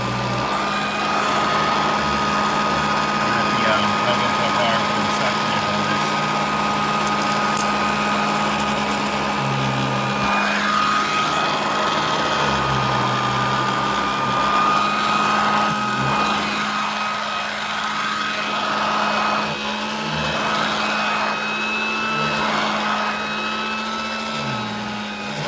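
A Royal model 157 hand vacuum from 2017 picking up sawdust from a small carpet in a basement: a continuous high motor whine with a steady hum, close and loud, running throughout without talk.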